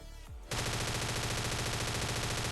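Loud, sustained automatic gunfire from the Scarfall 2.0 battle royale game, opening with a brief quieter moment before a dense, continuous burst of rapid shots that lasts to the end without talk.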